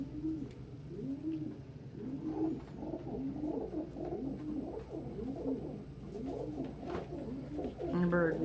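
A pet pigeon or dove coos over and over in a steady, rhythmic series of soft throaty calls, close and clear, with faint background noise and a brief sharper sound near the end.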